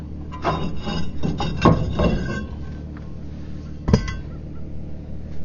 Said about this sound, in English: Now that I got those bolts out, I'm going to go ahead and take the rotor off and then put the new one on.